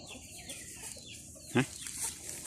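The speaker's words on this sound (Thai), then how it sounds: "ไก่ไอเต็กมันออกมากินข้างนอกเลย" Chickens on a Thai farm cluck softly at a distance, with one short louder cluck near the middle of an otherwise quiet, faintly hissing background.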